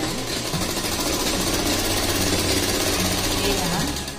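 A sewing machine runs a fast, even stitch through trouser fabric, its rapid mechanical chatter steady and close for several seconds while someone talks over it.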